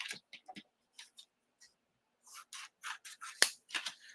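Pieces of paper card being cut with scissors, a series of short crisp snips close by, sparse at first, then quicker and denser toward the end, with no talking.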